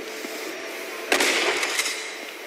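A shotgun fires once in the game Uncharted: Golden Abyss, a sharp, loud blast over a steady background hum, followed by a few smaller trailing pops and echoes.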